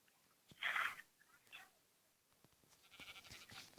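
Sheep bleating in a medieval knight-themed video game, a single loud bleat up front followed by fainter animal sounds and soft rustling, with light talk in the background.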